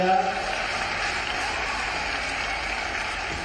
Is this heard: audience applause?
yes